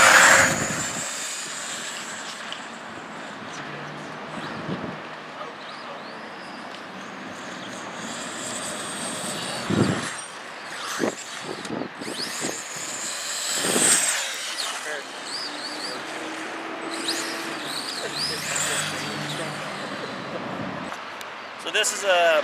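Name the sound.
Dromida DT4.18BL brushless RC truck driving fast on lipo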